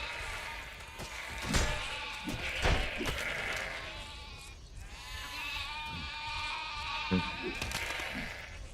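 Sheep bleat repeatedly in the Overlord video game, several wavering cries layered over a steady game ambience, with thuds and impacts as the sheep are struck.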